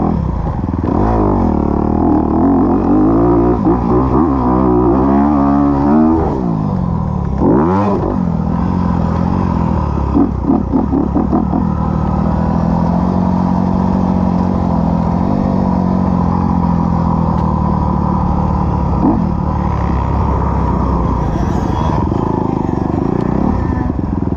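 Electric motorcycle ridden in second gear on a freestyle ramp course, a steady continuous motor whine and rolling drivetrain noise with clatter and scraping bumps throughout, fairly loud and close, without talk.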